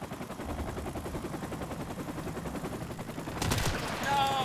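Rapid automatic gunfire in the online shooter Modern Warfare Remastered, a dense continuous rattle of shots close up, growing louder near the end with a brief sharp burst.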